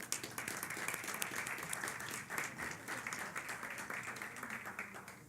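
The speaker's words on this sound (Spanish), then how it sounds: "Un aplauso, por favor." An audience at an electoral justice conference applauds a panel member, a steady sustained round of clapping from many hands, evenly loud throughout and slightly distant.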